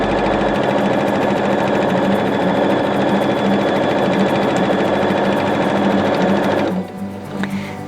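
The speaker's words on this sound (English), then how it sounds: "So I can just start sewing" A sewing machine stitching along the folded edge of a fabric mask runs loud and close in a fast, steady mechanical rattle, then stops near the end, leaving only faint handling noise.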